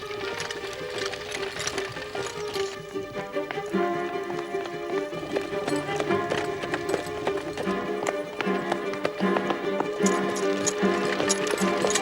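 A galloping horse in a period drama scene, rapid clip-clop hoofbeats that run steadily throughout, set against background music.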